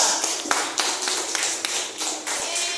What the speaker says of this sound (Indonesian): Berikan tepuk tangan semua.